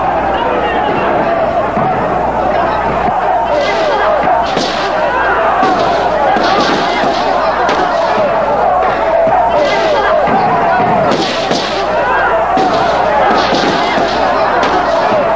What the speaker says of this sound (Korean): 중앙청 후문에서 저지선을 형성한 경찰은 공포탄과 최루탄을 쏘며 강경하게 대응했다